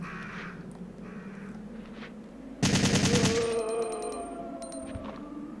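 Rapid automatic gunfire from the Resident Evil 3 video game, a loud burst of shots erupting partway through over a quieter game background, followed by lingering ringing tones.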